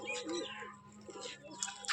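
Pigeons of an old breed cooing softly near a loft, low soft calls repeating under faint background noise with a few brighter chirps.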